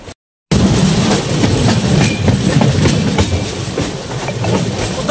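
The Kolkata Garib Rath Express runs on rails with a loud, steady rumble and a continuous clickety-clack of wheels, after a brief silent gap at the start.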